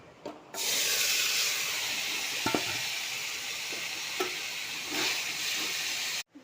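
Nigella seeds, chopped onion, chilli, tomato, salt, turmeric and chilli powder fry in hot oil with a steady, close hiss, broken by a few soft clinks and scrapes of stirring.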